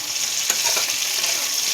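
Potatoes stir-fried in a pan for a homestyle fish curry, giving a loud continuous sizzle with scraping stirs close up and no talking.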